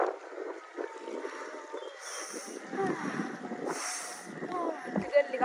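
Wind blows steadily across Oyster Bay in Dar es Salaam, Tanzania, buffeting the microphone in a continuous rushing roar with occasional stronger gusts, while voices talk over it.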